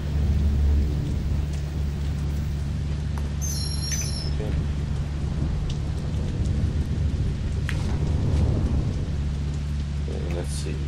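Steady heavy rain pours in Condemned 2: Bloodshot, with deep rumbling thunder rolling underneath and a few faint metallic chirps on top.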